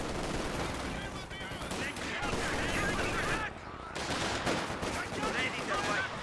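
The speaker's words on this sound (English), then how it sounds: "Popping up a flare there to try and outmaneuver the machine gun" Machine gun fire in Company of Heroes 2, rapid bursts of gunshots rattling close and loud, with short bursts repeated and a brief lull midway before the firing resumes.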